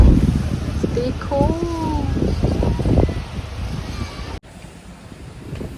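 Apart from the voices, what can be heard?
wind blowing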